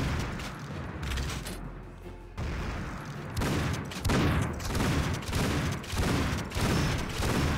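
Rapid gunfire aimed at a huge boss in Painkiller: Hell & Damnation, a steady stream of loud shots and heavy blasts pounding in quick bursts, with brief pauses between volleys.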